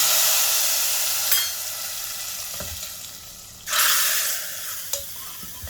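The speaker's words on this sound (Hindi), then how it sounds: "अब इस तड़के को डालेंगे हम हमारी तैयार की हुई दाल में" Hot tadka tempering hits cooked Sindhi dal with a loud hissing sizzle that bursts up several times and settles into a steady crackling fry, close up and with no talking.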